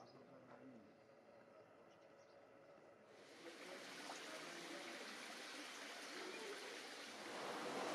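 Water of the Ai-Ais hot spring in southern Namibia flows and burbles, starting as a soft trickle and swelling midway into a louder, steady rushing gush that builds further near the end.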